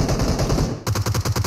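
Rapid automatic enemy gunfire in PUBG Mobile, a loud close burst of evenly spaced shots after a brief rumbling lead-in, about eight quick cracks in under a second.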